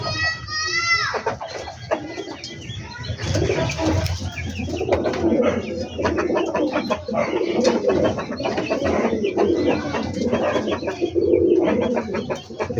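Pigeons coo softly and repeatedly close by, heard beneath someone talking and children's voices in the background.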